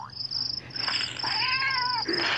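Several synthetic-sounding meows from cats in the video game The Visitor rise and fall over a steady high electronic tone, one after another, fairly close and clear with no talking.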